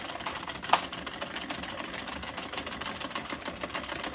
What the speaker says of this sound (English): crank this for a few rows and see how it goes. Seems to be hand cranking fine.